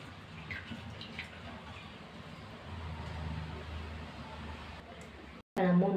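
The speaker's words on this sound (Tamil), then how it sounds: "தண்ணி சேர்த்து ஒரு 3 வாட்டி நம்ம வாஷ் பண்ணி எடுத்துக்கலாம்." Water sloshes and rinses over toor dal and chana dal in a kitchen bowl, a steady wet swishing that runs for several seconds before a brief pause and a louder splash.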